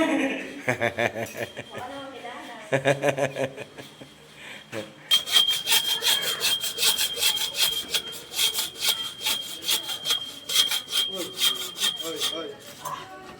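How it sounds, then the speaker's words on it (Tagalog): A hand saw rasps through wood in quick, rhythmic back-and-forth strokes, close by, with people talking and chuckling nearby. "Gamit pa lagari."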